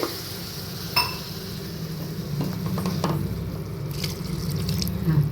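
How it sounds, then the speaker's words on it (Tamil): A tumbler of water is poured into a pot of brinjal and chana dal kootu. There is a close, continuous splashing pour, with sizzling and stirring sounds from the pot. "ஒரு டம்ளர் தண்ணி ஊற்றிக்கலாம்"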